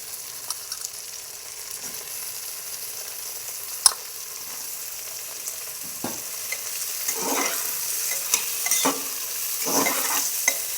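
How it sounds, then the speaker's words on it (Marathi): Soybeans and pulao ingredients frying in a pan while being stirred, a soft steady sizzle broken by a sharp utensil clink and repeated scraping stir strokes that grow busier toward the end. "असं हलवत राहायचं"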